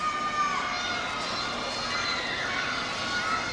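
Crowd noise from the audience at a 1997 women's professional gymnastics championship, a steady wash of cheering and shouting that holds at a moderate level throughout with no clear peaks.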